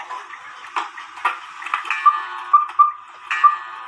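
Antique-style cuckoo clock mechanism ticking: a series of sharp, close clicks at irregular spacing, some with a brief bright metallic ring, over a faint background hiss, no speech.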